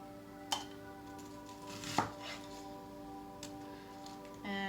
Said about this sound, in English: So we're going to go for relatively thin strips, and I'm putting these straight into the pan.